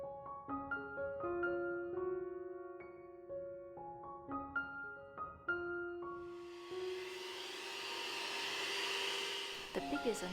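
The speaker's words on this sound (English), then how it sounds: "other than the noise of a vacuum cleaner" A vacuum cleaner's broad hiss starts up and runs steadily beneath a simple melodic tune of sustained tones, continuing until it cuts off near the end.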